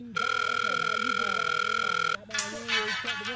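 A telephone rings out while someone calls the police: a loud, steady electronic ring tone lasts about two seconds, then a second burst begins, with a voice murmuring underneath.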